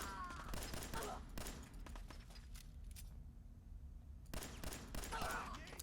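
Enemy gunfire in Fallout 4, a mid-distance clatter of repeated shots with a brief lull partway through, set within dense game ambience.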